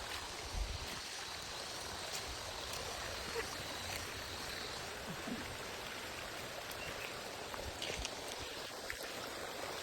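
Water gushing from a hose in a constant rushing hiss, steady and fairly loud throughout, with a faint low rumble underneath.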